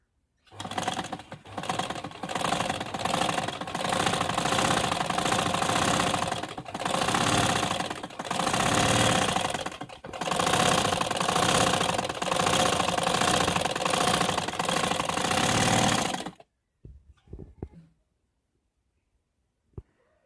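A sewing machine runs in long, fast bursts while stitching a ladies suit collar, its loud, close, rapid mechanical clatter stopping briefly twice before a few short taps and then quiet.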